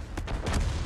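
A tank blowing up in World of Tanks: a few quick sharp bangs followed by a heavier, louder boom with a low rumbling tail, all within a second.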